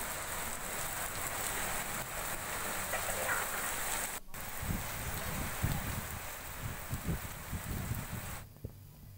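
Steady rain falls in Tanakpur, Champawat district, Uttarakhand, a continuous close patter on surfaces that stays even throughout.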